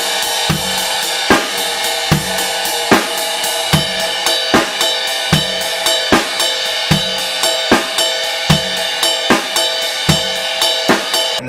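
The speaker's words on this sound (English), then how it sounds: "I'm going to play the normal 6/8 and then the bell tip 6/8." A drum kit plays a steady 6/8 groove, first the normal pattern and then a bell tip variation on the ride cymbal. Bright cymbal strokes run in an even rolling rhythm with regular kick and snare accents, close and loud, with no talking.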